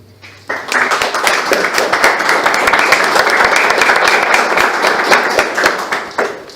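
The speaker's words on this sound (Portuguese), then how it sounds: "Aplauda o Espírito Santo." A church congregation bursts into loud, sustained applause during a sermon, many hands clapping rapidly and steadily for several seconds before tapering slightly.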